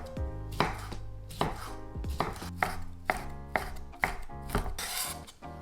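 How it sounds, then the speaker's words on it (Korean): Knife chopping vegetables on a cutting board for homemade pizza bread, a steady series of close, sharp thuds about every half second, with no talk. "2번째, 3번째에는 좀 작게 잘라서 넣어주도록 할게요."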